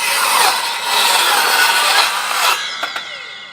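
Ryobi 18V cordless sliding miter saw with a Diablo Steel Demon blade cutting steel, a loud close grinding, screeching whine that runs steadily, then spins down with a few clinks at the end.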